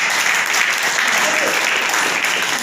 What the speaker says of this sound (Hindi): इस बात के लिए जबरदस्त तालियां होनी चाहिए।